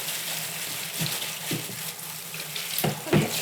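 Tap water runs steadily into a sink with a constant hissing splash, broken by a few louder splashes and knocks as something moves under the stream.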